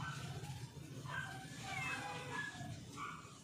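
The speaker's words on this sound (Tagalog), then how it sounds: "Ang gulo ng pusa ko." A pet cat meowing indoors, a few drawn-out cries close by and fairly quiet, with faint background sound.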